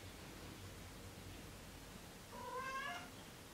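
A single short cat meow, indignant in tone, rises near the end over a steady background hiss, otherwise quiet.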